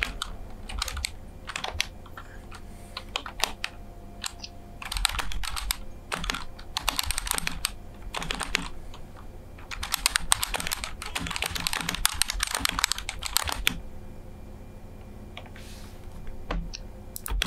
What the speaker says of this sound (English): just typing things out